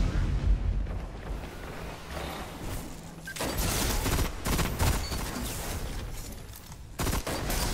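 Rapid gunfire fills a video game firefight with repeated bursts of shots and booming impacts at moderate volume, some pauses between volleys.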